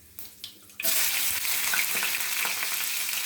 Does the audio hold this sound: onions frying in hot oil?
yes